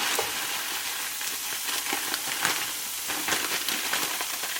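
Cauliflower rice frying in hot oil in a pan with peppers and onions, a steady loud sizzle and hiss with scraping stir strokes running throughout, no talking.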